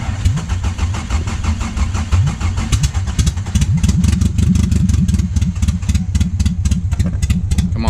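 A Toyota MR2 with a 7A-GE engine cranks and catches, then barks into a loud, rough, rapid-firing idle through open headers.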